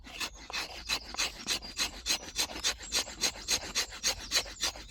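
Bark River JX5 knife blade carving shavings from wood, close up: a quick series of rasping scrapes in a steady rhythm, about three or four strokes per second.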